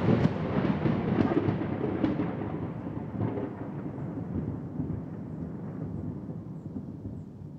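Low rolling thunder rumbles over steady rain, loud at first and slowly fading while the downpour continues.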